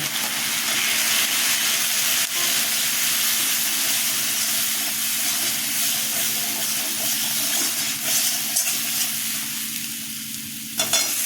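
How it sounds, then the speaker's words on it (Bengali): Ginger, chili and tomato paste with coriander powder fries in a hot pan, giving a loud, steady sizzle with bursts of hiss and occasional scraping stirs, close up and without talk. "আদা লঙ্কা টমেটো পেস্ট ছেড়ে দিচ্ছি ধনের গুঁড়ো দিয়ে"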